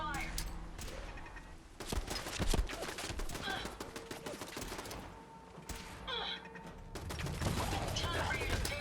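Rapid gunfire crackles in Fallout 4, with bursts of sharp shots and sustained firing over several seconds while game characters' voices call out amid the fight.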